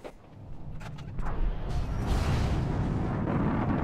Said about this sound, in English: Probably should have read what was going on with this before I maybe shot this nuclear missile into space.